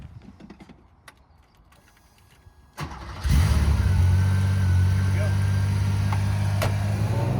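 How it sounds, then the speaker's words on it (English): A 1975 Porsche 911 Carrera with a 3.2 upgrade motor: faint creaks and door handling, then the engine starts loudly and settles into a steady close idle and drive-off hum. "So I'm gonna get in it and take it for a drive"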